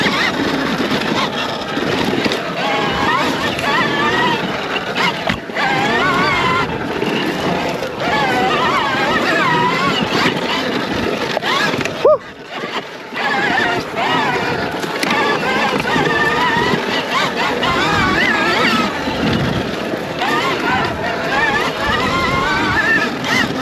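SurRon Storm Bee electric dirt bike on a dirt track: a continuous close rush of wind, tyre and motor noise that stays loud throughout, dipping briefly around the middle, with no talk.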